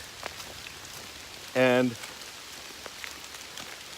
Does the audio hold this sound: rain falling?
yes